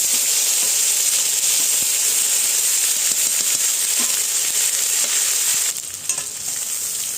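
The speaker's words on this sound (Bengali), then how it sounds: "মশলাটা কষে নেব" Ginger, cumin and chili pastes fry in a pan as a loud, continuous high hiss and sizzle with faint stirring clicks. The hiss drops away abruptly near the end, leaving quieter crackling.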